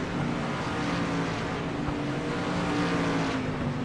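Street stock race cars roar continuously around the track at Southern National Motorsports Park, a dense, steady engine drone with overlapping cars, fairly close and loud, no talking.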